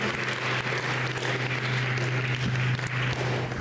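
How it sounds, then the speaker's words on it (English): An audience at a mental health talk applauds to welcome a speaker, a steady, even wash of many hands clapping in a room with a low hum underneath and no speech over it. "Let's give her a round of applause and welcome her, please"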